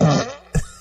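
A single fart sounding alone, close and fairly loud: a sputtering blast followed by a brief second puff.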